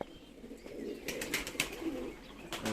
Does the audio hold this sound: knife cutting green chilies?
no